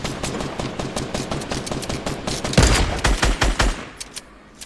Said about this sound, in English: They're shooting me down